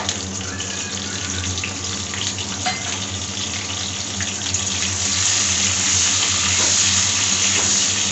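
Pointed gourd pieces with salt and turmeric fry in hot mustard oil, a loud continuous sizzle and hiss with occasional stirring clinks and no talking.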